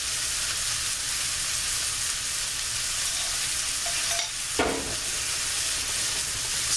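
Pork chops sauté in a pan as minced garlic goes in, producing a dense, continuous sizzle up close, with a brief scrape or clatter of a utensil toward the end.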